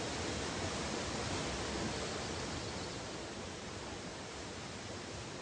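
Waterfall at St. Nectan's Glen near Tintagel, a steady broadband rush of falling water, constant and fairly soft, with no voices.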